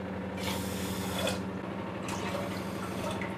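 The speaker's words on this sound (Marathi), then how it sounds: "आता याच्यामध्ये ना आपल्याला 3 कप पाणी घालायचं आहे" Water is poured over two cups of sugar in a pan to make syrup for gulab jamun, with two splashing bursts of pouring over a low background hiss.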